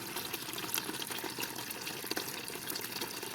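Water is scooped into a bucket beside a lake while fishing, a continuous close splashing and sloshing rush with no voices.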